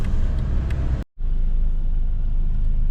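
A Mercedes taxi pulling away on a Kyiv street, heard as a steady low engine and road rumble from the cabin, broken by a brief cut to silence partway through, with no voices.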